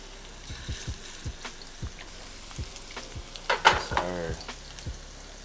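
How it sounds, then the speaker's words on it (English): Salmon sizzles and crackles steadily in a hot pan, close and fairly quiet, with a few sharp utensil clicks and taps scattered throughout. "And it's nice and hot and sizzling."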